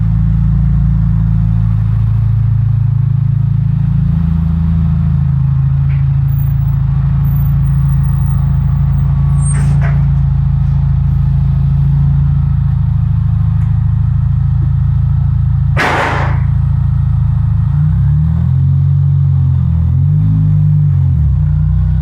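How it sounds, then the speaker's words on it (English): A steady, loud low mechanical rumble and whir of a Mini Cooper S R53's front wheels on an MOT brake tester's rollers, with a brief clunk midway and a shifting drone near the end. "Testing the front brakes."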